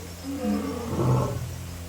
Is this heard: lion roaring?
yes